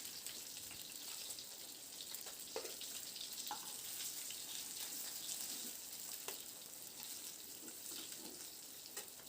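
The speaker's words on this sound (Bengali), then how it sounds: "মাছটাকে বেশ লালচে করে দেখুন ভেজে নিয়েছি" Fish for a spicy Bengali fish curry frying in hot oil in a pan, a steady broadband sizzle with occasional pops and spits, continuous and fairly quiet throughout.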